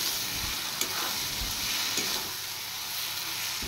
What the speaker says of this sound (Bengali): এবার আলু সহ মশলাগুলো একটু ভেজে নেব